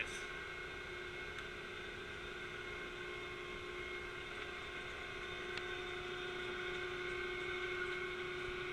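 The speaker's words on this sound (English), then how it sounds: "Ah, I love driving this boat." A steady outboard motorboat engine on a construction boat drones continuously with a constant tonal hum over broadband rushing noise, unchanging throughout.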